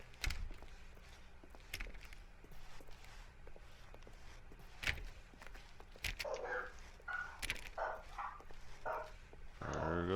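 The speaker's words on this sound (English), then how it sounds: "There goes the dog." A dog in The Stanley Parable video game barks and scampers around, with sharp scattered barks and yips over footsteps, followed by a burst of excited yelping near the end.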